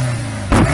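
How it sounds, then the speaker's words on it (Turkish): A loud car exhaust on a street late at night, a steady engine rumble that swells into a harsh, louder blast halfway through the short burst. "Özellikle gece geç saatlerde çıkartılan egzoz sesleri kulakları tırmalıyor, gürültü kirliliğine yol açıyor."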